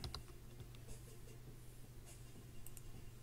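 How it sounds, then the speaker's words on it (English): Live typing on a computer keyboard, a quiet run of soft, irregular key clicks under a steady low hum, fairly faint throughout. "I'm going to type live"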